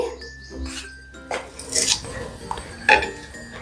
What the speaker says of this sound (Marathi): चमच्याने तूप मिक्स करून घेते पिठीमध्ये